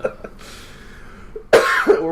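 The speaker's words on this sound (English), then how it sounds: "cough into the microphone because I'm dying over here" Several coughs close to a microphone, two small throat sounds at first, then a quiet pause and a loud, harsh burst of coughing near the end.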